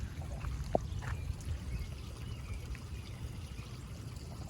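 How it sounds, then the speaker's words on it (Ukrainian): A small stream of water trickles faintly outdoors along a walking path, a low steady burble with a single brief splash near the start. "Такий струмочок тут є."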